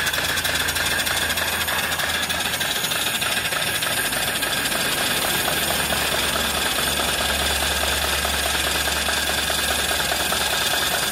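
Small off-grid steam engine with a boiler running steadily, a dense continuous mechanical chugging and rattling that stays close and loud throughout, with no voices.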